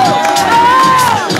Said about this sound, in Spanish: ¡Aplausos para el número 2!